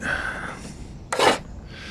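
A short dry scratch of a pencil marking a line across a wooden roof fascia board, one quick mark close up against a faint background.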